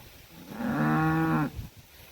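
A household cow on a farm gives one loud, drawn-out moo lasting under a second, heard close and clear over faint outdoor background.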